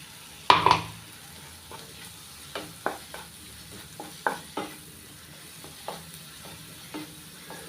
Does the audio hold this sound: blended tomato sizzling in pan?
yes